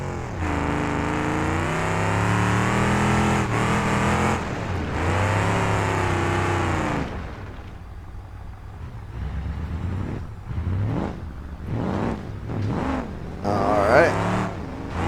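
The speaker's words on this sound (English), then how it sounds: "now it's a lot louder because the exhaust got damaged" A monster truck engine in the BeamNG driving game revs loudly with a damaged exhaust, a harsh sustained roar that cuts out midway, followed by shorter bursts of revving with people talking over it.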